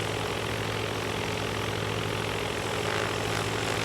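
The twin propeller engines of a Duchess model 76 in X-Plane 11 drone steadily at a low, even throb, loud and unbroken throughout, with no voices over them.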